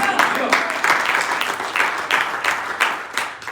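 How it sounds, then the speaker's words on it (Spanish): A church congregation applauds together, dense sustained clapping with rising and falling bursts, loud and close, with voices mixed in. "Dale un aplauso al Señor."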